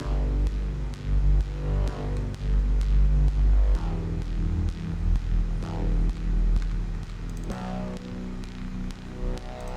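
Thick, buzzy electronic bass layers from the full bass group of an electronic track pulse steadily, heavy low end with a fuzzy, wah-like edge, dense and loud throughout with no voices.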